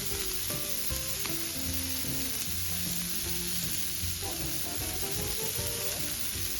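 Smash burgers sizzle steadily on a closed outdoor grill, a constant crackling fry with faint scraping, no voices.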